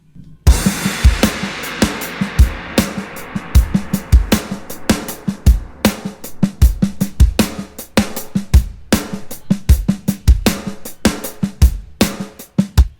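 A drum kit played loud and close, with punchy kick hits, sharp snare and busy cymbals in a fast, driving rhythm, with no talking.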